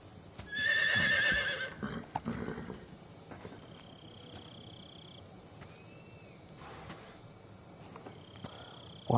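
A horse whinnies in Metal Gear Solid 3, a loud shrill neigh early on, followed by softer hoof and rustling sounds over a quiet background of crickets and insects.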